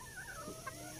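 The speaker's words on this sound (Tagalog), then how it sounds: "Ito yung manok mo." A chicken gives a short, faint cluck or two in a quiet outdoor setting, with no talking.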